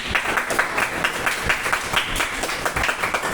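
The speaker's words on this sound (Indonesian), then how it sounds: "Tepuk tangan dulu untuk kelompok 3" Classroom applause for a student group after their presentation, many hands clapping together in a steady, dense burst, moderately loud and close, with no talking over it.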